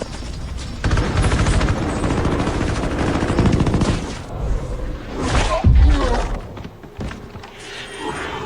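Heavy weapons firing in a film action scene: dense, loud, continuous automatic gunfire lasting several seconds, with a deep thud partway through before the bursts fade.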